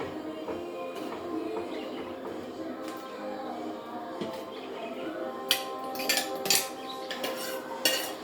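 A metal spoon clinks and scrapes against a pot as ground coconut paste is stirred into a jackfruit seed, raw mango and drumstick curry, soft scraping at first, then several sharper clinks near the end.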